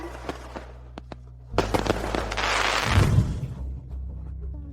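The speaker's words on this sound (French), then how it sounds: "J'ai préparé spécialement un spectacle de feux d'artifice." A fireworks display crackles and bursts, with a few sharp pops followed by a louder rumbling, fizzing barrage and scattered crackles as it fades.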